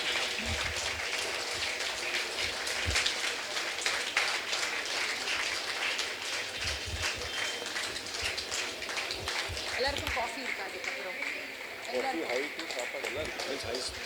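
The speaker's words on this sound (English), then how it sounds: "So please keep the claps going" Sustained audience clapping fills a hall at a Bhajan Samaj Ghatkopar East Ramanavami celebration, a steady dense patter that runs throughout with talking mixed in underneath.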